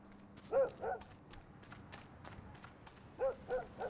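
A puppy gives short, high yips in two quick pairs, one near the start and another near the end, over a faint steady background hum.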